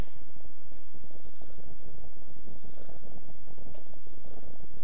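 A cat purrs close up in the game Agency of Anomalies, a steady, rhythmic low rumble pulsing with each breath and no talking.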